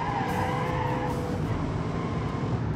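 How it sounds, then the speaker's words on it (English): The Gladiator hyper ute in BeamNG.Drive drifts and skids through a corner, with sustained tire squeal and engine roar that hold at a steady loud level, a high whine fading midway, and no talking. "You can drift any corner, you can oversteer at any corner using the engine."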